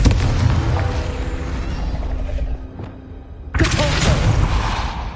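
A Confringo fire spell explodes in the Hogwarts Legacy video game. A sudden loud, broadband blast bursts in after a brief lull, over a continuous rumbling bed of game combat noise.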